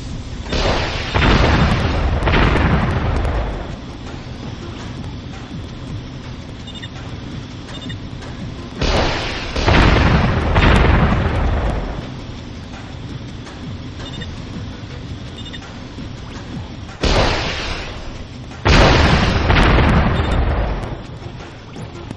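Laser satellite strike explosions in the strategy game Warzone 2100, several heavy booming blasts arriving in clusters with long rumbling decays, separated by quieter stretches of low background hum.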